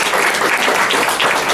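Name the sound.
club members applauding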